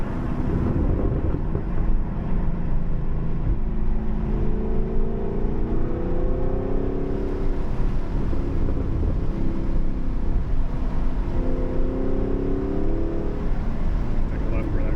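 A 2023 Camaro SS with an MBRP axle-back exhaust driving, its deep exhaust rumble rising and falling over steady road noise from inside the car, with people talking over it.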